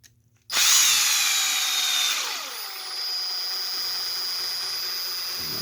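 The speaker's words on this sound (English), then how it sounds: "I'm just going to gently drive them down with my driver" An impact drill driver driving bolts down slowly on an oil bath differential, starting abruptly with a loud whirring whine that sweeps down in pitch and then settles into a steady hum.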